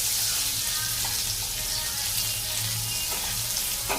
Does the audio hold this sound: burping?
no